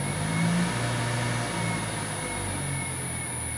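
Motor driven by an AT1-2200X variable frequency drive speeding up, a steady loud droning hum with a faint rising tonal whine, continuous throughout with nobody talking.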